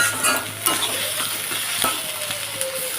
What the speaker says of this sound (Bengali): পেঁয়াজটা তো একটু দিয়ে দিলাম যাতে ছিটে গায়ে না আসে